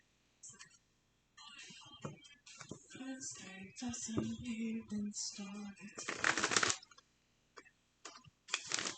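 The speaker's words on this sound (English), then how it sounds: "especially the card shuffling" Tarot cards are shuffled close up in short riffling and slapping bursts, some louder than others, separated by pauses and by brief soft talk.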